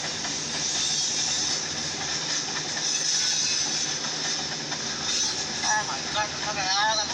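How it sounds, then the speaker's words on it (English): A long Norfolk Southern mixed manifest freight train loaded with hoppers rolls past nearby, a continuous rumbling roar with metallic rattling, hiss and brief squealing wheel tones toward the end, while someone talks over it. "there's a lot of hoppers in this train"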